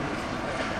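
A helicopter flies close overhead, a loud, steady rush of rotor and engine noise that fills the whole short moment without any voices.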